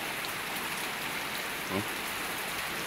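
Steady rain falls on a wet Sunday, an even hiss of drops on surfaces throughout, with one brief faint sound near the end and no clear talk.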